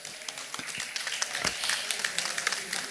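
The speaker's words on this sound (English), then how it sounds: "A round of applause for our panelists." Scattered applause for panelists at a high-level side event, fairly quiet and thin, with individual claps standing out irregularly over a light patter of hands.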